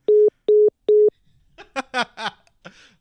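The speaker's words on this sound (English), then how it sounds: "obviously you heard the phone. He hung up again." Three evenly spaced telephone tone beeps sound loud and close right after a caller hangs up, followed by faint, brief talking.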